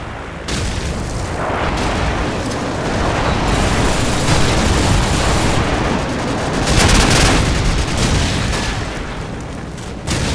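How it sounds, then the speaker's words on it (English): Continuous heavy explosions and booming gunfire from an airstrike in Call of Duty 4 team deathmatch, a loud, dense barrage rumbling without pause for the whole stretch, swelling near the end. "Friendly airstrike on the way!"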